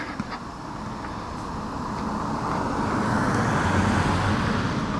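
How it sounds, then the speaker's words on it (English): A car passes on a residential road, its tyre and engine rumble swelling steadily from faint to fairly loud as it approaches, heard alone over light outdoor ambience. "All right, here comes a car."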